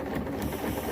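Sewing machine stitching slowly along a line on a Costco down throw underquilt, giving a dense, continuous whirring hum with steady rapid needle action, close and unbroken with no speech.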